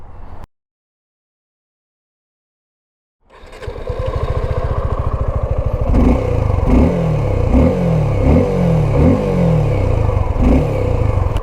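Suzuki V-Strom SX 250 motorcycle exhaust starting up after a brief silence, idling steadily and then blipped in a rhythmic series of short revs, loud and close with no talking.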